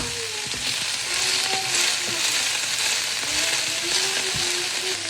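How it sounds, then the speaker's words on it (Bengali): Shredded cabbage sautés in a hot pan with a steady, close, bright sizzle and occasional stirring scrapes, while faint tonal sounds drift underneath. "তারপরে হচ্ছে বাঁধাকপিটা একটু সতে করে নিব"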